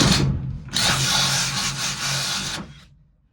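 A power drill whirs briefly, pauses, then drills hard for about two seconds, grinding into material during a camper van build before spinning down to silence; the drill bit snaps.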